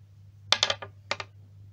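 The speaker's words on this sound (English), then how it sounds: "Roll 2 dice and add 12." Two dice clatter across a hard surface in a gamebook playthrough, a quick burst of sharp clicks followed by a second short pair of knocks, close and clear over a low steady hum.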